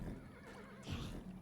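A donkey brays in a video game, a short, loud whinnying call with a sharp rise near the middle, heard alone.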